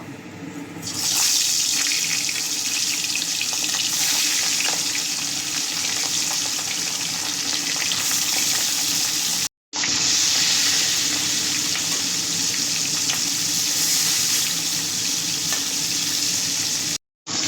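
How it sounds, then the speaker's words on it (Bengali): Fish frying in hot mustard oil, a broad hissing sizzle that rises sharply as the pieces go in and holds steady, with two brief breaks, no talking. "তেল আমার ভালোভাবে গরম হয়ে গেছে, মাছ দিয়ে দেবো।"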